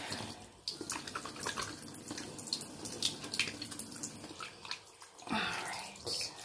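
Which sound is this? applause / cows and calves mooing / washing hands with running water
washing hands with running water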